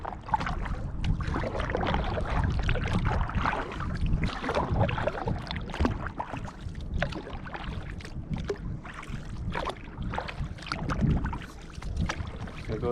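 Kayak paddling on a lake near Big Island, with steady rhythmic splashes and water swishes close by over constant wind and water noise, no voices.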